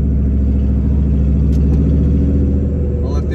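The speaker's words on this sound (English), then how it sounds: "it really differentiates the engine, and then you can hear the wastegate really open" A Foxbody Mustang with a side-exit 304 stainless exhaust and wastegate rumbles loudly and steadily at close range, a dense low engine drone with voices talking faintly underneath.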